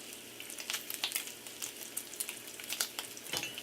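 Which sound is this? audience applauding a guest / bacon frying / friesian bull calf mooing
bacon frying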